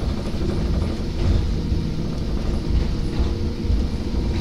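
A Hakone Tozan Railway mountain train rumbling steadily through tight curves, with a heavy low drone and faint wheel noise, continuous and close, with no talking.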